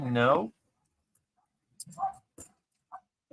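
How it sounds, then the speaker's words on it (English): Dogs bark in the background during a coin roll hunt, a few short, fairly faint barks spaced out after a single spoken word at the start. "If you can hear the dogs in the background"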